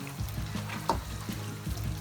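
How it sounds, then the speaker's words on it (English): Jamaican-style curried goat stirred in a cooking pot, giving soft scraping and wet bubbling sizzle up close, with a brief louder clink near the middle, quiet and without talk. "So that's gonna give it a nice little stir."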